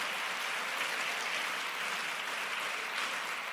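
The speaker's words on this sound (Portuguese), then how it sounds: "Aplauda para Jesus," A church congregation at an evangelical service applauds, producing a steady, dense wash of clapping that holds at an even level throughout, with no voices rising above it.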